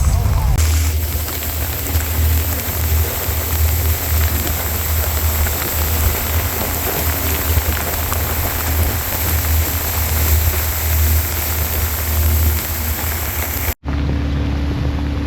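Steady rain hisses over a river boat cruising the Kinabatangan River in Malaysia, with an engine drone running underneath throughout and a sudden cutoff near the end.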